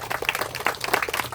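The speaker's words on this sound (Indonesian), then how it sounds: "Tepuk tangan untuk Tuhan." Brief burst of congregational clapping at a church worship service in a hall in Tayan, a dense patter of many hands close by, lasting only a moment.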